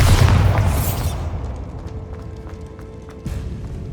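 A Bombarda spell blast in Hogwarts Legacy on PS5, a loud booming burst at the start that rumbles and fades over a few seconds, followed by faint debris and a smaller thud near the end.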